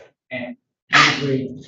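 One sharp, loud sneeze bursts out in a quiet room right after a brief spoken phrase, ending in a trailing exhale.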